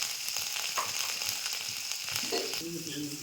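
Spice masala of ginger, turmeric and salt cooking in oil, a continuous close crackling sizzle with small pops and stirring scrapes, a louder spitting burst near the end.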